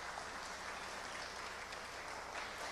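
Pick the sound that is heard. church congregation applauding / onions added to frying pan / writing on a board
church congregation applauding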